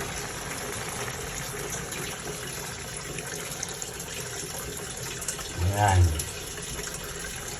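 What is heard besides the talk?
pouring first-press coconut milk into cooking squash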